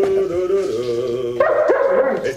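A dog barks and whimpers close by, a steady run of voiced yelps and bow-wows rising in pitch partway through, with no talk over it.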